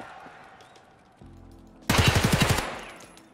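A rapid burst of automatic gunfire firing BS ammo in Escape from Tarkov Arena, about eight sharp shots in quick succession after a brief mechanical hum, loud and close, then decaying into quiet.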